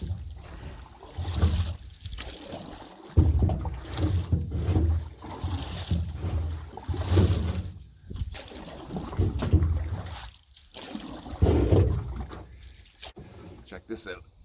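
Canoe paddling on a secluded lake by a solo camper, with recurring soft water swishes and splashes heard close by, mixed with wind noise on the microphone and occasional breathing or brief talk.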